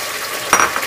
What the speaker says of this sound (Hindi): और इसे थोड़ा सा हम ऑयल में फ्राई करेंगे इतना कि हमारे गोश्त का जो है कलर चेंज हो जाए